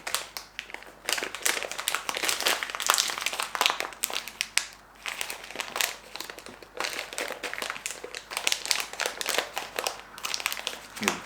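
A resealable plastic bag of beeswax beads for nose waxing is handled up close, giving a continuous run of soft crinkles and rustles with small irregular bursts.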